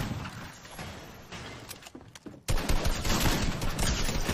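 Gunfire in the video game Fortnite crackles in dense, rapid bursts, moderate at first and then suddenly louder and more continuous in the second half, with no voices over it.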